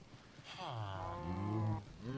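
Cow mooing in the Minecraft video game, a single drawn-out low moo rising then sliding down over about a second and a half, fairly close and alone.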